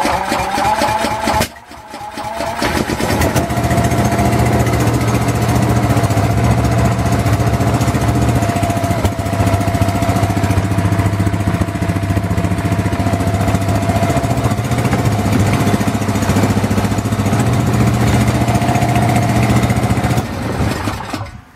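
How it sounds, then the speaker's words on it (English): Honda GX200 clone small engine mounted on a generator runs steadily and loudly, with a brief dip near the start before a constant droning hum. "here is the engine on my generator"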